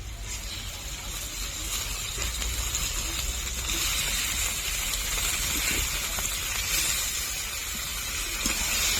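Chicken pieces hiss and sizzle in a pan of browned fried onions for a chicken curry. The frying makes a steady, moderately loud crackling hiss that lasts throughout.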